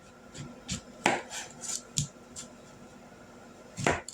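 Knife chopping a squash into chunks for deep frying, a handful of sharp, separate cuts spaced irregularly across a quiet kitchen.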